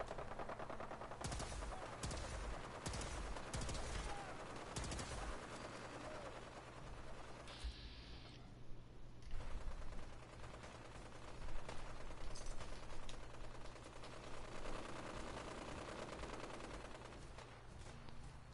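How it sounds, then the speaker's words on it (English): Gauss rifle fire in Fallout 4, heard as a long stretch of rapid, repeated shots and impacts of varying loudness, with a brief lull midway and some mechanical clatter throughout. "he's using a Gauss rifle as a weapon"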